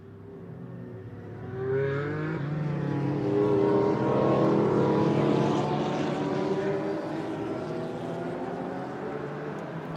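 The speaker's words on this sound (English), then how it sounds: "We're about to go racing for 30 minutes around the Silverstone Grand Prix circuit." GT4 race cars getting a race underway at the Silverstone Grand Prix circuit: a loud, dense engine roar from many cars, building after the first couple of seconds and holding steady throughout.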